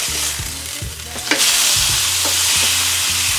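A marinated London broil steak sears indoors in a hot pan, giving off a loud, steady sizzle with a sharp clack partway through as the meat is flipped.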